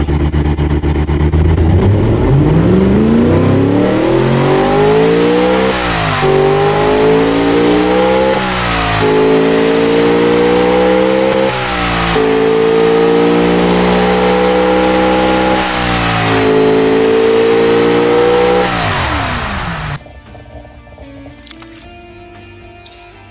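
A 6.0-litre carbureted V8 making 700 horsepower revs hard and close, climbing and holding high through several rising pulls for about twenty seconds before dropping to a quiet idle.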